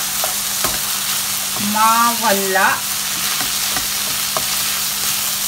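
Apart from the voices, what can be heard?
sautéing in a pan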